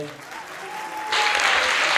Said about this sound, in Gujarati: કાળિકા માતા, મહાદેવ દાદા, એમને ફરી પાછા એકવાર આપણે તાળીઓથી વધાવીએ